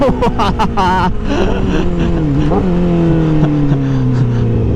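Honda CBR1000RR Fireblade motorcycle engine on a ride, loud revs that climb and then hold a sustained whine, with brief bursts of wind buffeting at the start.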